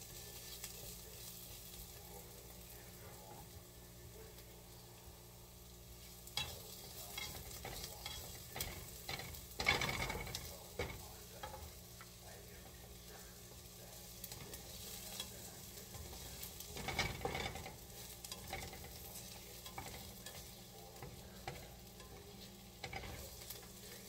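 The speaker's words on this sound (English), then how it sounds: "honestly think they're sauteed enough" Vegetables sautéing in a pan for an Amish country casserole, a steady low sizzle with repeated stirring scrapes, louder bursts around the middle and later, no voices.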